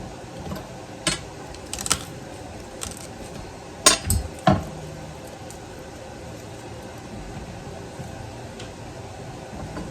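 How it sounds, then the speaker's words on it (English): Two big garlic cloves are peeled and chopped on a cutting board while green tomato salsa is being made, giving scattered sharp knife taps and clicks, a quick cluster of close chops in the middle over a quiet room. "Now I'm going to peel and chop up our garlic."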